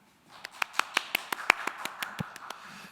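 Sparse handclaps ring out in a church lecture hall, about a dozen distinct, fairly evenly spaced claps from only a few hands, quiet and close, with no crowd swell.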